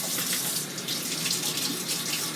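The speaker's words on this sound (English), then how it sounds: "Rinse this off right now." Tap water runs steadily over a personal blender cup being rinsed in a sink, a constant broadband splashing rush close by with no speech.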